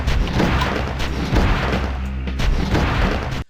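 Rocket launcher blasts and explosives going off in the video game Oni, a dense run of booming, crashing detonations that stays loud throughout and then cuts off abruptly.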